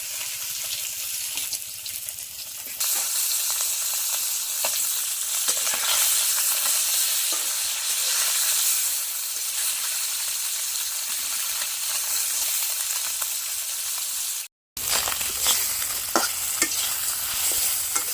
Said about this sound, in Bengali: মাছ ভাজি হয়ে গেছে এখন নামিয়ে নিই